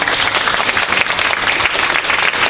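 Dense, steady applause from an audience filling a hall for a guest's mother, loud and continuous throughout with no gaps.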